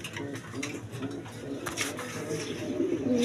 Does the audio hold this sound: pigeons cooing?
yes